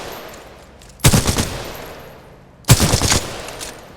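Two short bursts of rapid gunfire at a shooting range in the video game Titanfall 2, each lasting about a second and a half, loud and near, with quiet gaps between.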